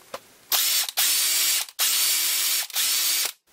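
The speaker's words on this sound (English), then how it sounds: "and I ream that out to taper it" A drill press reams a hole in knife scales to taper it, three loud, steady whirring runs separated by brief stops, close and alone with no talking.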